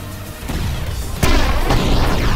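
Cannons fire in a VR giant-slaying video game: a loud boom hits at about the midpoint, with a fainter burst just after, over a dense, rumbling game soundscape.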